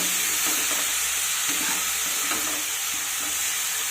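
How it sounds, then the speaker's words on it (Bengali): Bathua greens stirred in a frying pan, a continuous bright sizzle with repeated scraping and tossing strokes of a spatula at a steady rhythm, close up and without voices. "এবার শাকটাকে খুব সুন্দরভাবে প্রথমে মিশিয়ে নিতে হবে"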